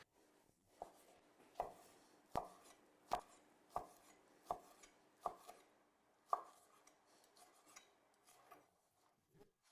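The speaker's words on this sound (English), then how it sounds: "That's why I'm going to cut the bacon into small pieces now." A knife cutting bacon into small pieces on a board, about ten distinct chopping knocks at an uneven, unhurried pace, close and quiet with near silence between strokes.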